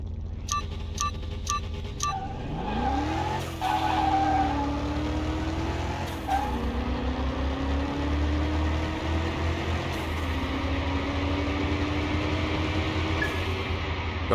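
Tuned sedan drag racing in Car Mechanic Simulator 21, with a few short start beeps and then a steady engine drone rising through the gears in several shifts, close and even, without talk.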